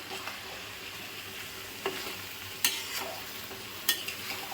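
Mutton with cumin, garlic, ginger, green chilli and onion paste sautéing in a pot, a steady sizzle broken by several sharp stirring clinks and scrapes, with no voices.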